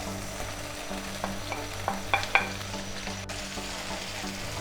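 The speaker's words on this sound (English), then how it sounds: "Leave the heat on high, put the onions in. Fry the white onions first." White onions frying on high heat in oil left over from browning beef for beef chow fun, a close, steady sizzle with a few clicks and scrapes of a utensil against the pan.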